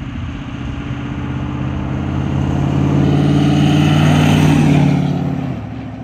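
A deleted 6.7 diesel truck revs hard while rolling coal. Its loud engine roar swells to a peak partway through, then eases back slightly, with no talking.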